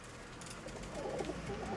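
A pigeon coos softly in low, murmuring pulses, quiet and close, against a faint background hum with no voices.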